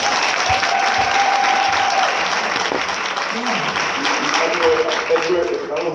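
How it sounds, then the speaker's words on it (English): Conference audience applause after a presentation, with a full, steady round of clapping holding at a constant level; faint background voices are audible beneath the clapping. "Give them a round of applause, please."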